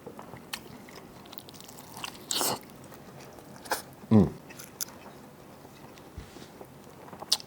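Someone bites and chews a restaurant sandwich with diced grilled onions: scattered crunchy, squishy bites, one louder close-up chomp in the middle among quieter mouth sounds.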